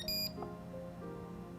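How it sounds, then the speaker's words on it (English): Short electronic beeps from a Lady-Comp fertility monitor display while its center button is held down, a bright double-tone blip near the start that stands clear over faint background hum. "press and hold the center button until the display beeps"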